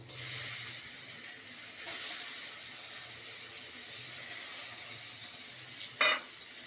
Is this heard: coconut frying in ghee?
yes